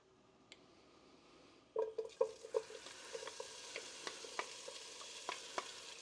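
Guanciale fries in olive oil in a pan, a steady close sizzle with a run of scraping stirring strokes that begin partway through and keep recurring over the crackle.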